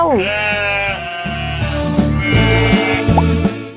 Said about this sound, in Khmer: ហ្វងជៀមកំពុងតែស៊ីស្មៅ